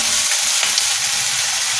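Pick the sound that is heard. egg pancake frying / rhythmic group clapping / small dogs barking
egg pancake frying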